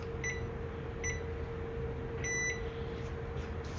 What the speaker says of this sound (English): Timer is set